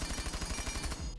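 Automatic weapon fire with a compensator muzzle attachment in the video game Rainbow Six Siege, test-fired at 5 meters: a fast, loud, evenly spaced burst of shots lasting about a second.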